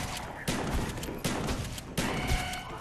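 Video game gunfire rings out in dense, continuous volleys, with three distinct heavier bursts layered over a constant crackle of shots, loud and close, with no talking.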